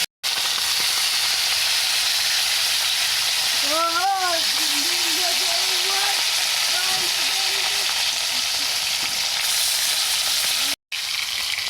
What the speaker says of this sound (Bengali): মাছ দিয়ে দিচ্ছি তেলে